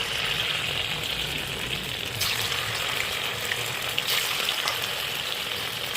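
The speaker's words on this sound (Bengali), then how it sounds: "তেলে ছেড়ে দেবো।" Maida flour dough pieces frying in hot oil give a steady, fairly loud bubbling sizzle that runs unbroken from start to finish, with no voices over it.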